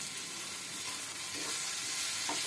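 Chopped onion frying with salt in a pan, a steady close sizzle with a few faint stirring scrapes and no voices.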